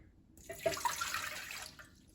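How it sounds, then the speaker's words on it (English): One cup of tap water is poured into a bread machine pan for Italian herb and cheese bread, making a soft splashing pour of about a second and a half with no talk. "So first we're going to start out with 1 cup of tap water, and Madison will dump that in for me."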